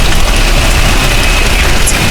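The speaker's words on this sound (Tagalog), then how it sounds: "Kasi ang lakas ng ulan." Heavy summer rain in Hanoi, a loud, dense, continuous hiss and patter with a low rumbling underneath, steady throughout and with no talk.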